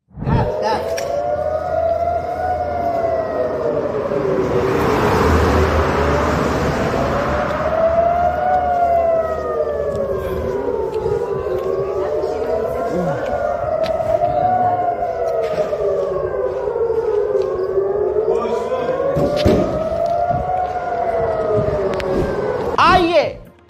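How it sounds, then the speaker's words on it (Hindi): An air raid siren warning of incoming missiles wails continuously, rising and falling in long repeated sweeps, loud and sustained over faint background noise. "जब इनकमिंग मिसाइल का सायरन बज रहा था"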